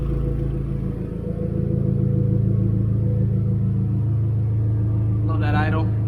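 A Hyundai Genesis Coupe engine idles steadily, a loud, continuous low rumble with no revving, close to the car and alone for several seconds.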